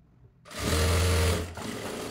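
Sewing machine stitching a frilled cloth frock starts up after a quiet moment, a close, loud motor whir for about a second, then slows to a softer hum.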